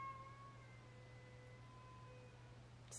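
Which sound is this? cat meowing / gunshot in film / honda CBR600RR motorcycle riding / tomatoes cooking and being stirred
cat meowing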